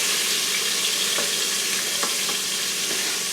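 Bacon sizzling and frying in an Instant Pot for beef bourguignon while being stirred, giving a continuous bright crackle with a few soft scraping knocks of the utensil against the pot.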